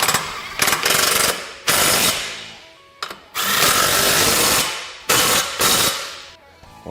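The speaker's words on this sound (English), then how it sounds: "let's go ahead and fully tighten them" Bolts on a front tow hook for a Textron Wildcat XX being fully tightened with an impact tool, heard as four loud close hammering bursts separated by short pauses.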